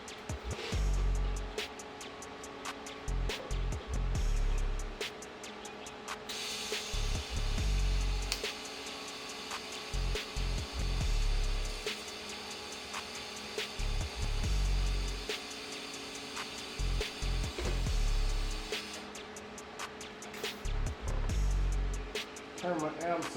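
A custom downpipe for a K24-powered Ranger is tack welded across a wide gap in thick metal, giving repeated bursts of harsh buzzing crackle separated by short pauses, close and fairly loud.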